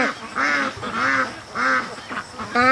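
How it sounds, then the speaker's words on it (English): Several loud, nasal quacks from free-range ducks playing in creek mud, in an uneven run of about five calls, close by, with no talking. "the ducks are just drilling in the mud like it's disgusting mud too"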